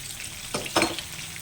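Spices crackle in hot oil in a pan for stuffed ridge gourd curry: two brief, close sizzling bursts rise over a soft steady background hiss.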